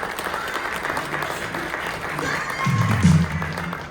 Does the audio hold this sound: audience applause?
yes